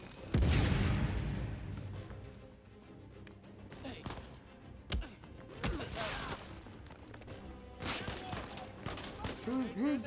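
Gunfire and grenade blasts in the Uncharted 4: A Thief's End game on PS5, a heavy boom at the start followed by scattered shots and impacts, with voices talking in between.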